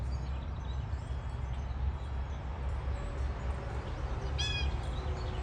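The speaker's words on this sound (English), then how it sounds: "I hear a blue jay already and I see it." A blue jay calls in a backyard, a short harsh series of cries near the end, over a steady low background hum with faint other birds.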